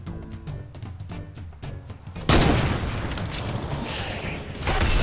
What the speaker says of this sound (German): Der hat direkt auf mich eine Granate geschossen, beziehungsweise einen Schneeball.